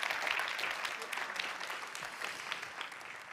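Audience applause welcoming climate researcher Volker Krey to the stage, steady dense clapping from a sizeable crowd throughout, heard from the room at moderate distance.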